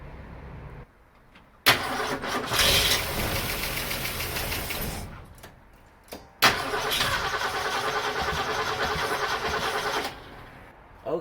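A 1962 Mercury Comet engine after a night on a trickle charger, cranking in two loud bursts with brief catches of firing, separated by a short quiet gap, heard alone up close.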